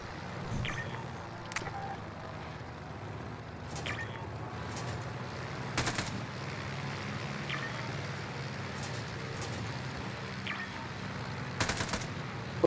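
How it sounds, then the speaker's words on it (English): Distant small-arms gunfire in Call of Duty: Warzone, with scattered short bursts and single shots at irregular intervals over a steady low engine-like drone, fairly faint throughout. "we're taking some small arms fire"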